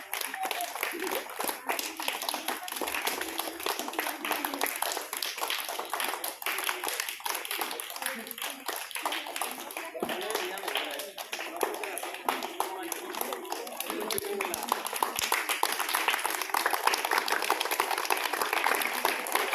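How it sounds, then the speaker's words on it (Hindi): Schoolchildren clap their hands without a break as a crowd welcoming pupils with flowers at a school, a dense, sharp patter that keeps going, with voices talking faintly under it. "ताली बजाते रहिए।"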